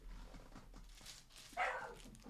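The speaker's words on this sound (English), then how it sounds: "Oh, that's my dog barking." A dog barks once in the background of a quiet indoor room, the sharp bark arriving near the end after faint stirring and low room noise.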